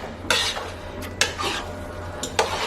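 Beefaroni is stirred in a pot in three distinct scraping strokes from a spoon, close and moderately loud over a low steady hum, with no voices.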